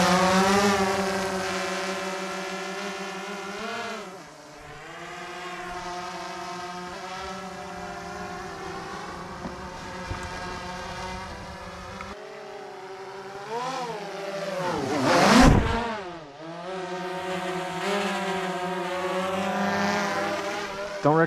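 A small drone flying over water, its propellers giving a steady whining buzz that shifts in pitch as it maneuvers, swelling loudest as it passes close near the end.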